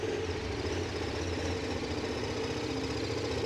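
KTM 1190 S adventure motorcycle engine idling close by, a steady low, throbbing rumble with an even mechanical knock and no change in pace.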